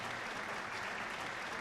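Steady, dense audience applause after an operetta performance at a concert in Trails of Cold Steel, a continuous wash of many clapping hands filling the space evenly, loud and close with no voices on top.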